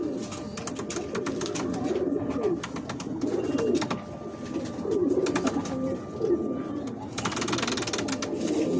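Soft, low pigeon coos repeat in steady rolling phrases, with faint clicks and rustles in the background.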